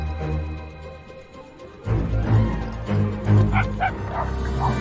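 A dog barks and yips in short, loud bursts with some whimpering, close by and over a quieter voice in a dubbed film scene.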